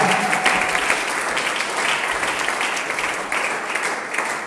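A church congregation at a seminar bursts into sustained, loud applause in praise of God, a thick wash of clapping hands lasting the whole moment.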